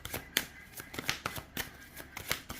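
Oracle cards are shuffled by hand for a tarot reading, producing a rapid series of close, crisp papery riffles and slaps in an uneven rhythm.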